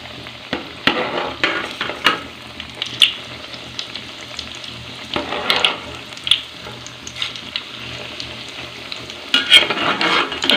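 Bread roast frying in a pan, a steady close sizzle with repeated scraping and stirring clicks from a spatula throughout, no voices.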